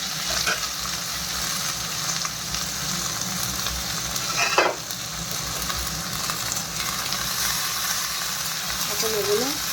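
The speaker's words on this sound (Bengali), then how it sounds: "এখন এগুলো লাল লাল করে ভেজে নিই" Onion, tomato and green chilli sizzle in hot oil with cumin for paneer bhurji, a steady frying hiss that runs evenly throughout, with a brief clatter near the middle as the pan is stirred.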